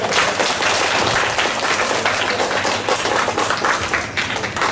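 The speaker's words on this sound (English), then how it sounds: "Let's clap for her." An audience at a declamation competition applauds after a speech, a dense, steady wash of many hands clapping that continues without a break, fairly loud and with no voices over it.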